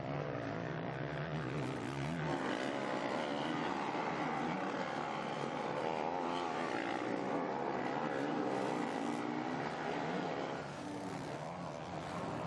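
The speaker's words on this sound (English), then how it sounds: "Valentin Guillot here in red, and the green Kawasaki of Seawer." Motocross bikes, including Kawasaki and Honda machines, race in an MXGP qualifying race at Galicia in 2024, their engines blending into a continuous droning roar from a distance.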